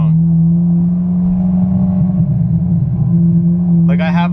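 A car engine in limp mode drones loudly and steadily up close, its pitch wavering slightly as it surges, and a voice cuts in briefly near the end.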